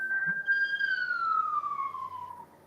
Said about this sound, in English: Oh, we got a siren going by.